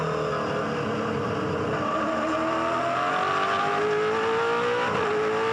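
A V8 Supercar at the 2006 Bathurst 1000 accelerates hard from about 90 km/h, its engine note climbing steadily in pitch through a long, loud, continuous roar with no talking.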